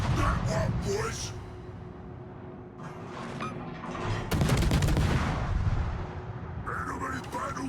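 Warship guns in World of Warships fire with heavy booming blasts and rolling artillery echoes while people talk over the battle, and the loudest salvo lands in the second half.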